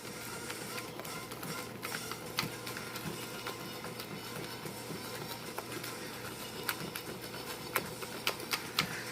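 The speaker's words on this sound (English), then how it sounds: "you really need to mix this batter well" Pancake batter is whisked by hand in a bowl until smooth, making a fast, even patter of close tapping and scraping strokes that runs for about nine seconds, with no voices.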